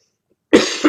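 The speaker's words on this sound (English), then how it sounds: "I don't know where this persistent cough came from" A single harsh cough bursts out after a stretch of silence, followed quickly by a second shorter cough, close and loud.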